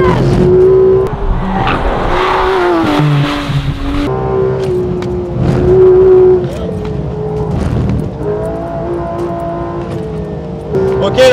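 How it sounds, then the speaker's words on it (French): A Porsche GT3 RS brakes hard into a chicane on a race circuit, its engine note falling and rising through downshifts under loud, excited talk inside the car. "Ok, là, c'est gros freinage"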